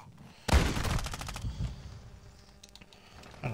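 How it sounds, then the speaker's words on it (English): Shotgun in Call of Duty: Modern Warfare 2 going off in a loud sharp blast followed by clattering mechanical rattles and quieter handling clicks. "Got the shotgun, slider reload."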